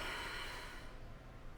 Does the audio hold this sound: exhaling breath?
yes